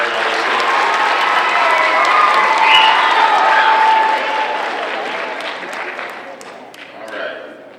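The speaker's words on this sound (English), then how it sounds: "let's give one more round of applause and a big thank you to Ms. Murray and all those students." A junior high school audience applauds and cheers at an anti-bullying presentation, a dense, loud burst of clapping with some shouting that gradually thins out toward the end.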